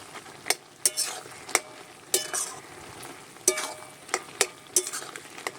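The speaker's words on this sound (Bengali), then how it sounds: "এভাবে আমি পুঁই শাকটা নেড়ে চেড়ে চচ্চড়ি করে নেব।" Malabar spinach is stirred in a pan as it cooks into a dry chorchori: irregular spatula scrapes and clinks sound over a faint background sizzle, close and fairly quiet.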